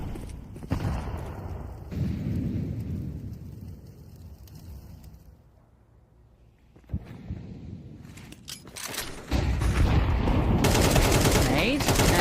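Automatic AK rifle fire in a Counter-Strike match, bursts of rapid shots with a quieter lull before heavy sustained firing near the end, mixed with game ambience and faint voices.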